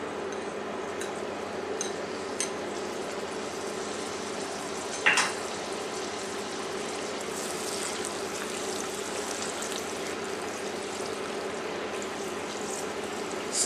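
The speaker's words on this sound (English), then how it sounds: "Saute for 1 to 2 minutes before adding the shrimp." Garlic mixture and chopped cilantro sautéing in butter in a pan, giving a steady close frying hiss with a brief louder clack of a utensil partway through, no talking.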